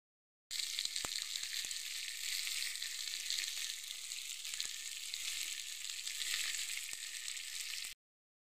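Masala-coated fish sizzles in hot oil in a pan, a steady close crackle and hiss with small pops throughout.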